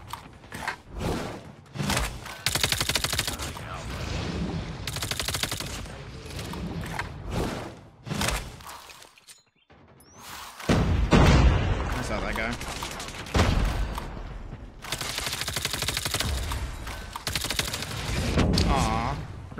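Type 19 rifle fire in a video game comes in repeated loud automatic bursts separated by short pauses, mixed with mechanical weapon handling sounds and a brief quiet gap midway.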